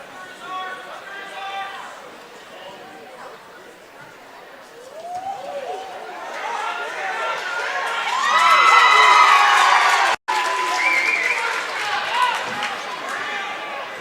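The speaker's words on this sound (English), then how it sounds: "the Parker cheerleaders liked it. They were cheering" Cheerleaders cheer and whoop at a high school wrestling match, a crowd roar building to a loud peak midway and staying lively, with commentators talking over it.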